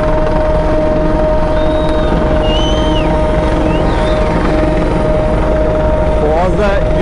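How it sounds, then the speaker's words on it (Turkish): A loud coast guard helicopter drones steadily overhead above the Bosphorus during an open-water swimming race, with a thudding low rumble and a sustained whine, faint bird-like chirps and voices slipping in over the engine noise. "Şu an tepemde bir sahil güvenlik helikopteri var"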